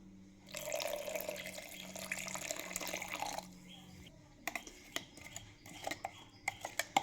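Buttermilk poured into a freshly ground paste, a steady liquid pour for about three seconds followed by scattered clinks and taps of mixing in a bowl or jar.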